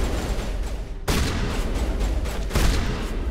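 Weapon fire in Mass Effect 1 sounds as dense, loud bursts of rapid shots, with two sudden, heavier blasts cutting in partway through, close and without any talk over them.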